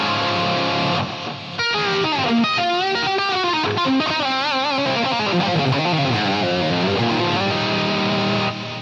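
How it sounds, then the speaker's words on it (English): A heavily distorted electric guitar played through a Boss ME-8 multi-effects unit set to Metal Zone, with reverb, delay and pitch shifter, plays sustained notes and bends, loud and continuous with no voices. "I basically got a metal zone dialed in with some reverb, delay, pitch shifter"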